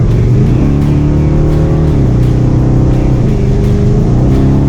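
A Ford Mustang's engine roars steadily on a race track, holding a loud, continuous drone with stepped rises and falls in pitch as the throttle is fed in and eased between gear changes.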